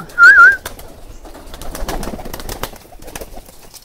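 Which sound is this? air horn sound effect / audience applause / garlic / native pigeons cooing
native pigeons cooing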